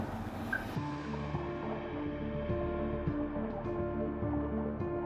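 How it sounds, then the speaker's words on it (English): Outboard motor engine on a boat running steadily at sea, a continuous low hum with harmonic tones that holds close and even throughout, alongside faint water sounds. "Just the sound of an engine, and we got a little shark tracking along beside us."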